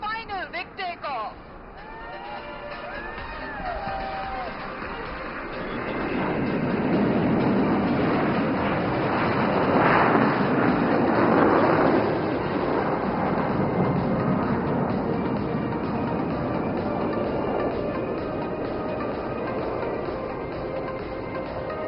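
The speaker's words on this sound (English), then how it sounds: "And here's the third and final big takeoff." Indian Air Force jet taking off at the Aero India 2025 air show, a broad engine roar that swells, peaks and slowly fades over about twenty seconds, with crowd murmur and a commentator talking over it.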